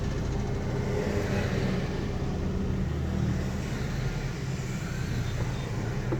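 Cars crawling in a traffic jam on the Palembang–Prabumulih road at Gelumbang, a steady dense rumble of engines and tyres with vehicles passing close by throughout.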